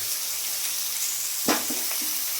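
Fish paturi sizzles steadily in a hot pan, a continuous frying hiss with one brief louder splash as the pan is shaken to toss it, no spoon used.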